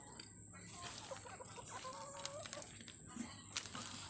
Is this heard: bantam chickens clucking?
yes